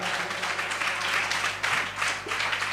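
A church congregation clapping hands during a sermon, a steady wash of many hands clapping together at moderate volume, continuous and fairly distant.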